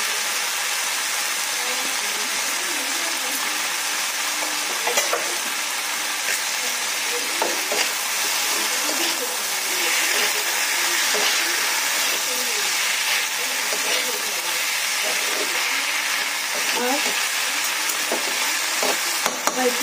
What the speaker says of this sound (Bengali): এবার এর মধ্যে বাঁধাকপি কুচনটা দিয়ে দিচ্ছি।